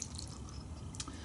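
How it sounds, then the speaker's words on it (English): Hand agitating water mixed with Chemical Guys car wash soap in a bucket, faint sloshing and dripping with a few soft splashes, no talking. "just agitating the water manually, it is producing quite a bit of suds already"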